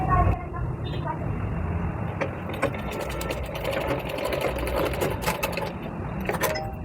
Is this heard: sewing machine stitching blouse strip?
yes